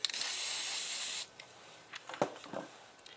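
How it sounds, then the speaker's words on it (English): Black spray paint hisses onto a magazine sheet in one steady, close burst lasting just over a second, then gives way to quiet rustling and handling. "Spray paint some black."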